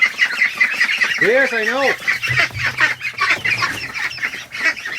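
Muscovy ducklings peep in high, chirping calls, a clear rising-and-falling call standing out near the start, with a brief voice speaking over the brood.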